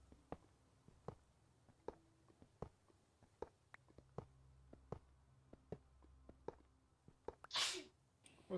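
A single sharp sneeze bursts out near the end, amid small scattered clicks and knocks in a quiet room.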